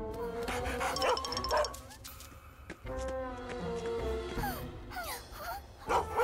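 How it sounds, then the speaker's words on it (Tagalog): A cartoon service dog barks and yips several times in quick bursts, with whiny, rising yelps between, fairly close and lively. "Isang aso na serbisyo!"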